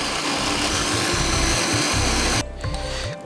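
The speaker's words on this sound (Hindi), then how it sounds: "हम इसको पहले अच्छा सा ग्राइंड कर लेंगे" A mixer grinder churns raw mango with sugar for a mango drink, making a loud, close, continuous whirring grind that cuts off near the end, leaving a fading rattle.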